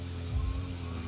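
Native Bisaya chickens on a hillside farm give a brief, close cluck over a low steady background hum.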